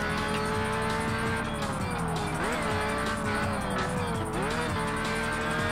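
A Lamborghini in a racing video game brakes into corners, its loud, steady engine roar dipping in pitch twice amid tire noise, with no break in the sound.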